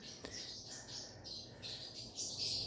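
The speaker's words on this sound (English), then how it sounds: "If you hear my birds chirping in the background, I have 2 little parrotlets" Two small pet parrotlets chirp indoors in quick high tweets and squawks, fairly faint and close together.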